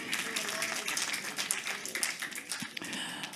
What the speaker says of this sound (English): Let's give our applause to them.